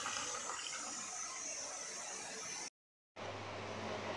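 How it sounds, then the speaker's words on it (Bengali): Water poured into a bowl of flour and salt for roti and paratha dough: a steady, close rushing pour, then a brief cut to silence, and after it a quieter continuous trickle with a low hum. "জল নিয়ে নিচ্ছি।"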